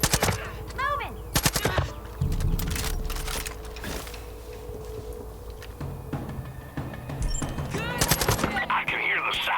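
Machine gun fire in Far Cry 5, heavy bursts of rapid shots up close, broken by short pauses, with a steady rumble and other battle noise underneath.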